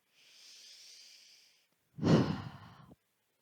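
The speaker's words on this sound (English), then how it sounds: "We will finish with 3 hot breaths." Two forceful exhalations as hot breaths closing a yoga flexibility session: a long, soft airy breath, a short pause, then a louder, sharper huff that trails away, close and with no talk.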